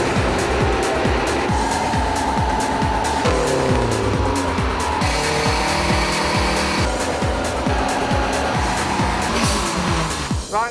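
A car at a torque show event revs hard and spins its tyres into smoke, a loud, continuous engine roar with rising and falling rev sweeps and tyre squeal throughout, close and unbroken.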